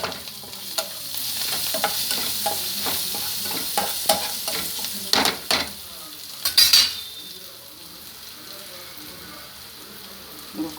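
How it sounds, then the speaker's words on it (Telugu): Curry leaves sizzle and crackle in hot oil for adai dosa, a steady bright fizz with sharper popping bursts midway before the frying settles to a softer hiss. "ఈ కరివేపాకు వేసాను"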